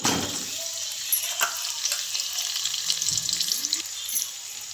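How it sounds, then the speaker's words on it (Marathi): Cumin seeds and garlic drop into hot oil in a home kitchen pan, giving a quiet, steady sizzle and fizz with a few soft clinks, no speech. "तेल गरम झाले त्याला म्हणजे आता पहिल्यांदा जिरी टाकते लसूण"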